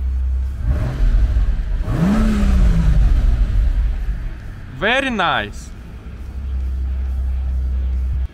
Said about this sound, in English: Got the key inside of the ignition, let's start it. All right, now throttle.